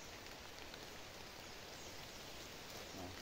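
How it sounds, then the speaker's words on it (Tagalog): Light rain falls outdoors over a ginger planting plot as a faint, steady, even hiss that runs throughout with no other clear sounds. "Medyo umuulan ngayon."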